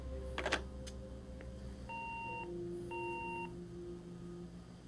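An answering machine in the video game Gone Home gives two clear electronic beeps, evenly spaced about a second apart, each a steady pure tone, after a click and some soft handling noise.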